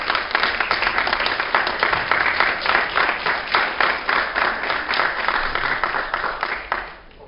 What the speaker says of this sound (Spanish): recibimos con un fuerte aplauso al señor Emilio Rufai